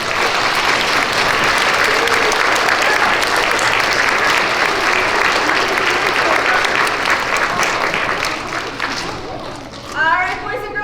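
A school assembly crowd of young children claps loudly and steadily for several seconds, dense and continuous, then thins out as excited young voices rise near the end.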